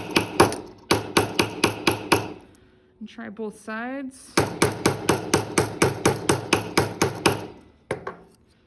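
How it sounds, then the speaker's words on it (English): Texture hammer striking copper jewelry metal, sharp ringing blows in quick rhythmic bursts, close and loud, with a spoken line partway through. "I can then switch to my texture hammer, and I'm actually going to do that up here just because it's a larger hammer."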